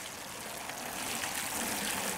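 Water pours from a watering can onto tomato transplants in peat cups, giving a steady soft hiss and trickle of flowing water with no voices.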